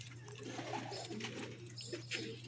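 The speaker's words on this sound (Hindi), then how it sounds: "ये छतरी वाले कबूतर हैं दोस्तों, जिनको पट्टी वाले कबूतर भी कहा जाता है।" Breeder pigeons of the chhatri wale (patti wale) type coo softly in a loft, several low throaty rolling coos overlapping close by against a steady hum.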